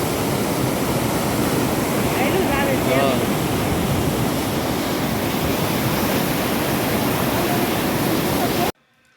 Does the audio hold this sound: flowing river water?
yes